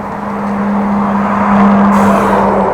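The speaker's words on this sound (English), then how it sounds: "Big truck" A large truck, seemingly empty, drives up a bridge ramp in the Netherlands, giving a steady loud engine drone with a strong low hum throughout, heard up close and alone.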